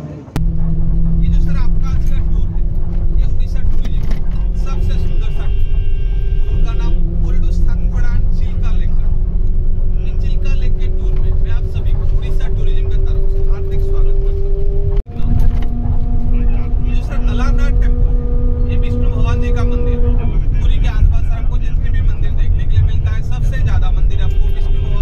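A car driving on the morning road toward Chilika gives a steady, close engine and road rumble throughout, with a voice or music layered on top.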